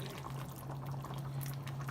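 Water poured into a pot of okra cooking for a Ghanaian okra stew, heard as a steady, soft liquid trickle over a low hum, continuous and fairly faint with no talking.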